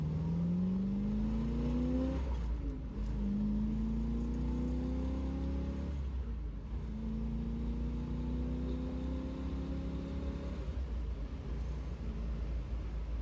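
A 1969 Ford Mustang Mach 1 with fuel problems pulls away on a road, its engine climbing repeatedly through the gears as each shift drops the pitch before it rises again, loud and close throughout.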